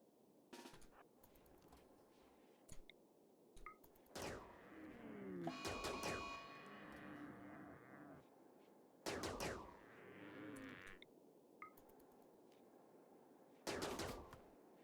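Gunfire in the colony game RimWorld, quiet and somewhat distant. Single shots and short bursts pop up at irregular intervals over a low background.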